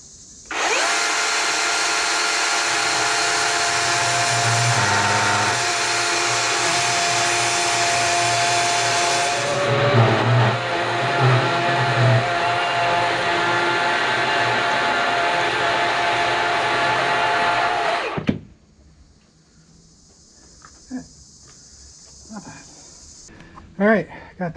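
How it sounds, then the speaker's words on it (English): A chainsaw shaves a lump off a large log at a sawmill, its loud steady high-pitched whine running for about eighteen seconds before cutting off, followed by quieter idling and clatter. "I'm going to try and shave that off with a chainsaw"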